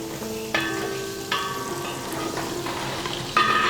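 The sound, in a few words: onions frying in a pan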